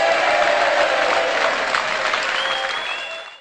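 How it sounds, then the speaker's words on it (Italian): A crowd at a televised talent show applauds warmly, a thick sustained patter of many hands that holds steady and then fades out at the end. "Un altro applauso forte"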